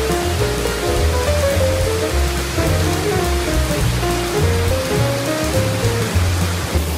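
Steady heavy rain falls in the Philippines, a dense continuous hiss of drops on surfaces with a low rumble and faint tonal hum underneath, and no voices.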